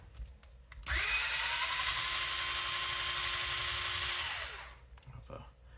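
A power tool drives screws into an Associated Rival MT10 RC truck's Exotek steel front arm mount, a steady high whine of about three seconds that winds down at the end, with quiet handling noise before and after.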